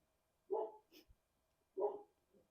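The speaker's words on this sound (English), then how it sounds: "My dog's barking." A dog barks twice, about a second apart, each a single loud woof with a softer trailing yip, close by in an otherwise quiet room.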